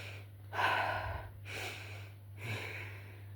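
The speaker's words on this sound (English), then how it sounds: "Deep breathing." Deep, slow breathing close to the microphone, three long airy breaths in a steady rhythm over a constant low hum, with no talking.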